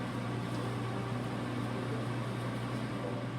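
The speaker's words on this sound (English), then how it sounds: "My steak is cooking at a degree of 350 in my air fryer." An air fryer running steadily while cooking a steak at 350 degrees, a constant fan-like whir and hum with no change throughout, nobody speaking.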